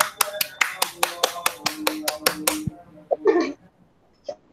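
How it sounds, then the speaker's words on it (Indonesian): A small classroom audience applauds a microteaching presenter, about a dozen crisp claps in a steady run that stop abruptly, followed by brief murmurs and a light tap. "mari kita beri aplaus yang meriah terlebih dahulu kepada Mbak Erni"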